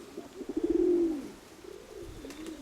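A pigeon gives a soft, rolling coo nearby, followed by fainter cooing against a low background hum.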